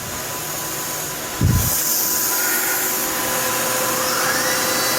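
The spindle of a 2011 Tsugami S206 CNC Swiss lathe spins at speed, giving a loud steady mechanical whine and whirr, with a brief thump early on and a faint rising tone near the end.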